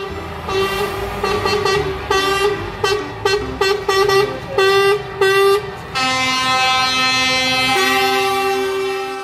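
A toy box truck's horn toots in a quick series of bright, tonal blasts, broken into short rhythmic honks before settling into a longer sustained tone, loud and close with no talking.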